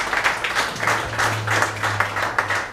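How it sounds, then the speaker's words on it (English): Audience applause for a minister at a RasTafari cultural centre opening, a brief burst of steady clapping from a crowd close by, with a low hum underneath. "Round of applause for the minister."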